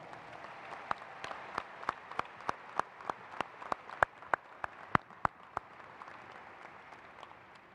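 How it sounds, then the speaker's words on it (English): Sparse, isolated claps from a small crowd at an outdoor high school commencement ceremony, single sharp hand claps spaced roughly evenly over a quiet background, not a full ovation. "Let's give them both a round of applause."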